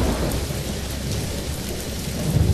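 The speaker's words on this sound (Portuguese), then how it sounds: "Tá chovendo de novo!" Heavy rain with thunder: a steady close downpour drumming on surfaces, with a low rumble of thunder rolling underneath and swelling toward the end, no voices.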